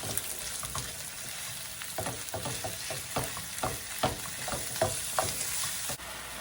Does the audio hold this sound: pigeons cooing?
no